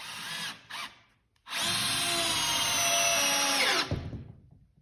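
Bosch GSR 12V-140 drill/driver driving a wafer head screw into wood, a brief motor blip, then a sustained close, loud whirring drive lasting about two and a half seconds before stopping abruptly.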